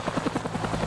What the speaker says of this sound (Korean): 산악 지역이 많은 우리나라 지형에 적합한 공격 헬기 코브라